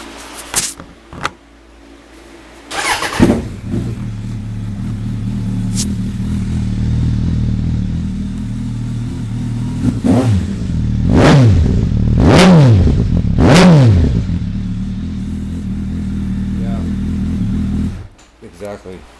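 A lightly modified 1997 Suzuki 1200S Bandit motorcycle engine starts up close and settles into a steady idle, then is blipped with three sharp revs before shutting off near the end.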